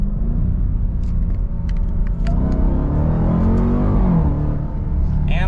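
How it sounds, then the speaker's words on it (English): A 710 hp Dodge Durango SRT Hellcat engine rumbles through quick downshifts, its deep exhaust note rising and falling in pitch as revs climb between gears, loud and close throughout. "Downshifts, they're pretty quick. There's a lot of gears to choose between."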